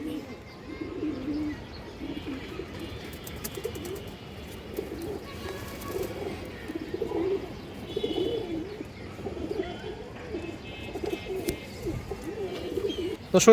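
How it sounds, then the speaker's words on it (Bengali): Silver Bagha khaki pigeons in a loft coo in low, rolling phrases that repeat throughout, moderately close, with faint chirps and light rustling beneath. "দেখেন সিলভার বাঘা খাকি কবুতর"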